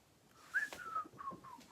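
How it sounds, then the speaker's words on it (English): A cartoon character whistles a short wavering tune as he walks away, a few clear breathy notes rising and falling alone against faint background rustle. "just like whistles as he walks away."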